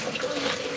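Coconut water poured into a pot while cooking coconut dumplings, a steady close splashing trickle that runs unbroken for under a second.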